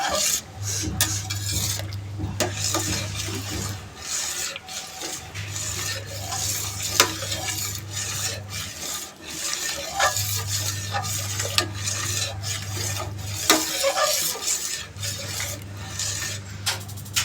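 A spoon stirs doodh pak, a saffron milk pudding, in a metal pot, scraping steadily in repeated sweeps over a low hum that stops and starts in regular intervals, with no talk.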